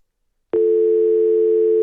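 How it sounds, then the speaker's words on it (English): Steady dial tone from an IP phone in a Cisco Packet Tracer network simulation, starting abruptly after a short silence and holding as one continuous, clean, loud tone with no talk. "So the dialing tone is like this only."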